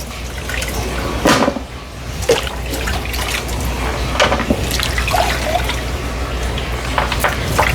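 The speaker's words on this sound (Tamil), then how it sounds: "கருவாட்டை அப்படி கழுவி 2-3 தண்ணியில் சுடு தண்ணியில் கழுவி எடுக்கணுமே" Dried fish being washed in hot water, with steady sloshing, trickling and dripping and occasional louder splashes throughout.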